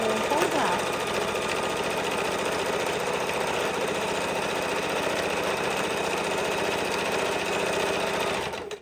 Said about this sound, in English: I just sewed over that a few times, making sure it's very, very secure.